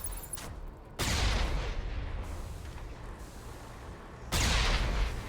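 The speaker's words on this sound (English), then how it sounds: "Stuff's shooting at us from inside here." Geth gunfire in the Mass Effect video game: dense bursts of shooting erupt suddenly, sustain under a rumbling battle din, then surge again near the end, loud and close.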